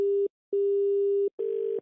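After a phone call is hung up, a disconnect tone sounds in three clean, steady beeps of the same pitch separated by short silences, the last one slightly rougher.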